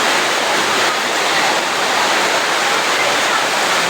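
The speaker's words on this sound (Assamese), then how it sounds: "আজি বৰষুণ পুৰা দি আছে চাই লওক বৰষুণৰ যিটো দৃশ্য" Heavy monsoon rain pours down continuously, a loud dense hiss filling the whole stretch with no breaks or other sounds standing out.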